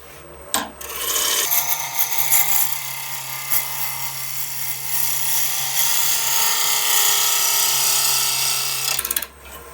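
A woodturning tool making passes on a spalted apple bowl spinning on a lathe, a sustained loud rasping cut over the lathe's steady low hum, starting and stopping sharply.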